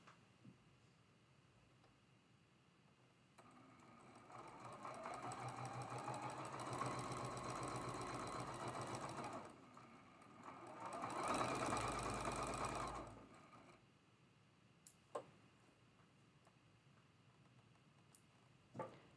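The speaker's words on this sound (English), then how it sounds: "Third and our last block to sew together for this step." A home sewing machine stitches quilt blocks together for a traditional Double V block, running in two steady bursts of close, even motor whir with a short pause between them and a few faint clicks afterward.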